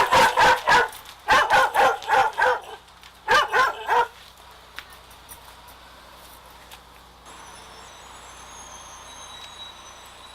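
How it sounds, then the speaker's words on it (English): A dog barks in three quick loud bursts of several barks each, close by, then falls silent, leaving faint traffic and outdoor background noise. "Hey, doggy! Hey, hey!"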